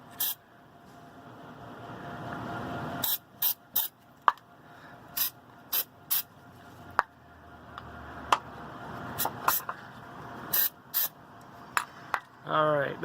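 Rubberized undercoat sprays from an aerosol can onto a body mount on a Ford Expedition EL, starting with a longer hiss and then dozens of short, sharp spurts, close up.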